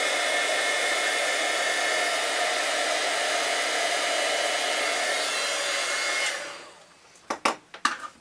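A heat embossing tool blows a steady, loud, whirring stream of hot air to melt embossing powder for about six seconds, then shuts off and leaves a few faint clicks and taps.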